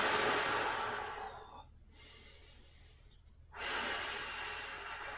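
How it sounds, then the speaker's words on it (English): Close, audible breathing during a golf core-strength and flexibility workout: a long exhale, a quiet pause, then another deep breath, with no talking. "a couple of nice deep breaths here to refresh"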